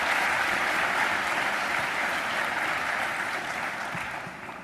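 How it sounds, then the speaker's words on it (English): An audience applauds fitness trainers at a Nintendo E3 2007 press conference for Wii Fit, a dense burst of clapping that slowly fades over a few seconds. "Let's give a big round of applause to our fitness trainers today"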